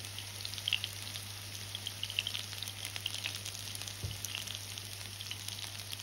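Fish fries in hot neutral oil with a knob of butter added, a continuous close sizzle with scattered sharp spits and pops, no voices.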